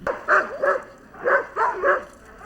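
Husky sled dogs in Denali Park, Alaska bark in short close bursts, about five yips and barks spaced in quick clusters.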